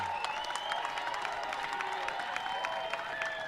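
Spectators at a kickball championship game in Lawrence, Kansas cheer and clap after a kick, a faint, distant crowd with scattered claps and shouts through the whole stretch.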